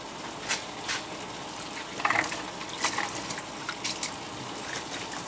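Water runs and splashes unevenly into a cooking pot holding potatoes for a Mexican picadillo, a close, moderate trickle with brief gushing bursts.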